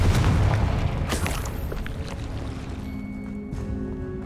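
Confringo blasting spell in the Hogwarts Legacy video game, a loud rumbling boom that rolls into a long fading roar, with crackling debris and a faint ringing tone trailing off, no voices.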